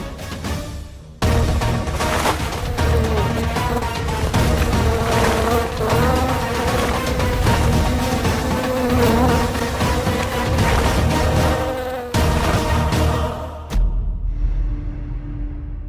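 A fly buzzing steadily and loudly for most of the stretch, a continuous droning whine that cuts out briefly near the end and returns faintly, with no talk over it.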